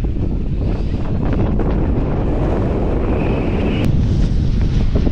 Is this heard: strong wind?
yes